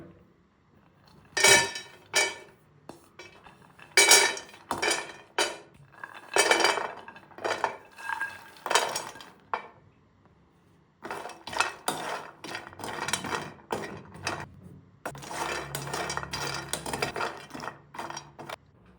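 Dry-roasting a mix of nuts and grains for homemade baby food powder in a metal pan, with a spoon scraping and clinking in repeated bursts, pausing briefly midway, then resuming steadily; no talking.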